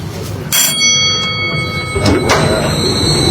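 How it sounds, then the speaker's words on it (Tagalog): Elevator sliding door closing inside a high-rise public housing building, a short rumbling slide followed by a soft thud and continued motor hum, with steady mechanical tones lingering in the car. "nagsara ng pinto"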